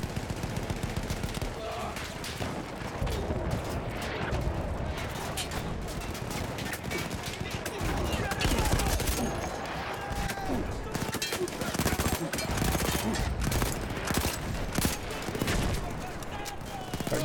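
Dense, continuous battlefield gunfire in the Battlefield 1 campaign, rapid rifle and machine-gun bursts crackling and overlapping throughout with distant explosions beneath, loud and sustained without pause.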